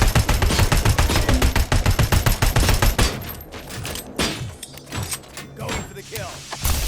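Rapid automatic gunfire rattles in dense bursts during a firefight in the video game Robocop: Rogue City, loud and continuous at first, then breaking into sporadic single shots and mechanical clanks.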